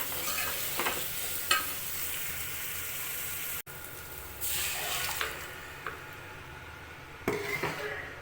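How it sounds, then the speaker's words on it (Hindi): Ground tomato and onion masala for a rajma curry frying in a pan, a soft steady sizzle with occasional scraping stirs of a spoon against the pan, close and fairly quiet, with no talking. "टमाटर प्याज पीस के भून रही हूँ मैं इनको"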